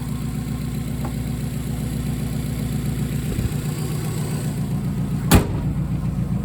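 A 2005 Subaru with a turbocharged engine runs at a steady idle, a continuous low rumble that holds evenly throughout, with one brief sharp knock near the end.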